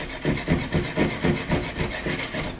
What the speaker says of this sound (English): I'm just shaving off the back of the sheetrock a hair.